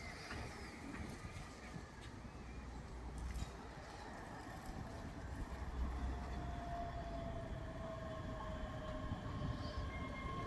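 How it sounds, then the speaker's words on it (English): A ScotRail class 385 unit, 385111, on the Dunblane to Edinburgh Waverley service pulls into Edinburgh Gateway station with a steady, building rumble of wheels on rail and a thin brake squeal as it slows. "Arriving in now is the 1412 Scotrail service from Dunblane to Edinburgh Waverley"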